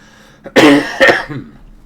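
A sick man coughs and clears his throat twice in quick succession, loud and close, with no speech in between.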